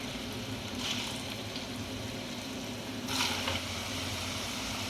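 Potato French fries frying in oil until golden brown and crisp give a steady, close, even sizzling hiss with brief louder swells, and no voices.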